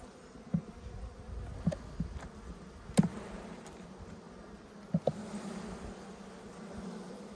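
Honey bees hum and buzz steadily around an open hive during a late winter inspection, a low close drone with a few brief louder passes and faint knocks of handling, no talk.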